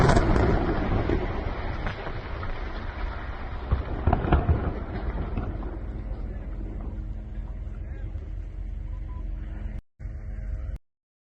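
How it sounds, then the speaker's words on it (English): Explosives blowing up a building in Lebanon, a loud broadband blast and rumble that slowly decays over several seconds, with wind noise, before the sound cuts out abruptly. "they plant explosives in it, and they walk all the way to set up a camera and then film themselves blowing it up"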